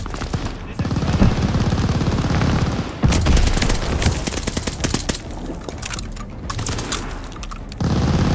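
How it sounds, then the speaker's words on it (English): Sustained enemy machine gun fire in Call of Duty Vanguard, dense rapid bursts with heavy booms mixed in, loud and close throughout a chaotic desert battle, with brief pauses between volleys. "Feindliche Maschinengewehr!"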